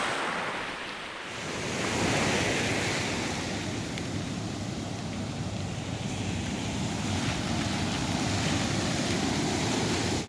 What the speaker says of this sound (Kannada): ನೋಡಿ ದೊಡ್ಡ ದೊಡ್ಡ ಅಲೆ ಬರ್ತಾ ಉಂಟು